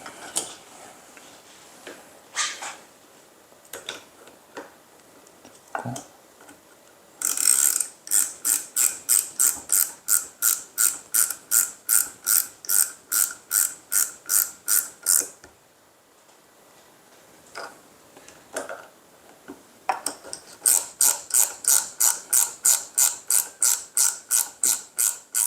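Ratchet wrench clicking rapidly while tightening a fastener during reassembly of A.T. Company SM-series equipment, in two long bursts of steady, close, loud clicks separated by quieter handling noises.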